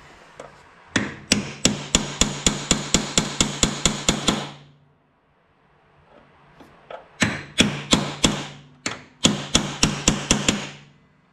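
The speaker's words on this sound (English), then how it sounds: "I'm just gonna use a cold chisel and a big hammer" Rapid, ringing metal strikes as a big hammer pounds a cold chisel on a John Deere snow blower part, two long bursts of steady blows separated by a quiet pause, loud and close.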